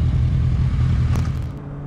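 Yamaha MT-09 SP 2021 motorcycle pulling away under steady acceleration with quickshifted gear changes, a loud continuous low engine drone that eases slightly toward the end, no talk.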